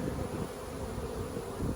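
A honey bee swarm flying around a hive box outdoors in Ohio, a dense, continuous buzzing hum at moderate volume, steady with slight swells and no voices.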